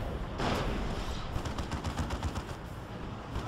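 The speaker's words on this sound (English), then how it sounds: "Now has this rapid firing plasma cannon doing AoE damage." Rapid-firing plasma cannon on an Executioner tank in the strategy game Dawn of War 2: Retribution, a dense stream of sharp repeated blasts with steady pulsing bursts over continuous battle noise, loud and close.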